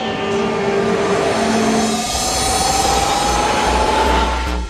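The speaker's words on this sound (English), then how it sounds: "In this Eurostar train, which is actually setting off as I speak" A Eurostar high-speed electric train pulls away, a loud steady rumble with a rising electric motor whine that climbs gradually in pitch, plus rail and wheel noise carrying on throughout.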